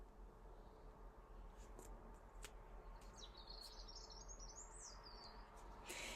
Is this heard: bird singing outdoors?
yes